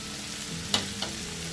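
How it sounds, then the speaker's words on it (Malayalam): Sliced onions and green chilies frying in hot oil for an anchovy and egg curry, a steady soft sizzle with two brief clatters of a spoon against the pan, close by and fairly quiet. "ഇനി ആ എണ്ണയിൽ തന്നെ ഉള്ളി ചേർക്കാണ്"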